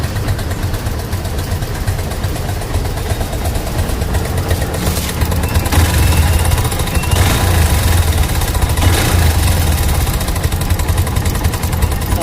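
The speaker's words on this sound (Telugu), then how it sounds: "ఈ విధంగా ఇంజన్లో పెట్రోల్ వేసి మాత్రం క్లీన్ చేయకండి దాని సౌండ్ వినండి" A motorcycle engine, just cleaned by pouring petrol into it, runs steadily at idle, loud and rough with a constant low rumble, and no one speaks.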